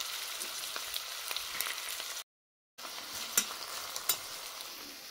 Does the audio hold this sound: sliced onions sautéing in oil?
yes